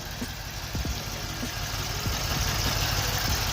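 A Mercedes C63s AMG engine idles steadily nearby with two ignition coils unplugged, giving a continuous low rumble with faint irregular ticks and knocks running through it and no voices.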